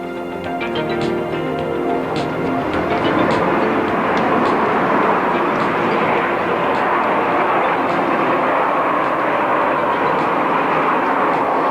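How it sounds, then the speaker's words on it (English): An Aermacchi MB-339 solo jet making a low pass at the 1986 NAS Moffett air show, a loud, steady, rushing roar that holds for the whole stretch. "Solo is coming from your right, the crazy flight, a maneuver established to show the flight characteristics of the MB339"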